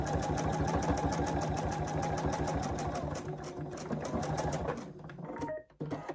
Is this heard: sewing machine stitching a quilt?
yes